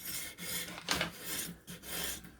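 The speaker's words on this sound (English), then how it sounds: "I'm going to do this knife now in a 600 grit" A knife blade is drawn across a 600 grit diamond stone on a Ruixin Pro sharpener, several close rasping strokes in quick succession, quiet and dry with no talk.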